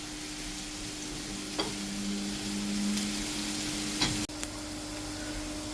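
Chopped onion fries in a pan in a home kitchen, giving a steady close hiss of sizzling with a few soft stirring scrapes and a brief clatter.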